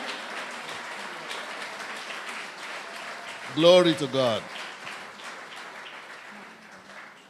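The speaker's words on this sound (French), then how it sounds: "Give God a round of applause." A church congregation keeps up a continuous patter of applause while a preacher's voice rises above it briefly, exclaiming in the middle before the clapping carries on.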